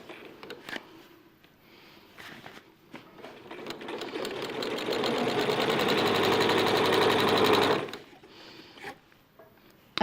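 A sewing machine stitches a quilt-as-you-go floor mat in a steady, fast mechanical whir lasting several seconds, bracketed by soft clicks and handling of the fabric before and after.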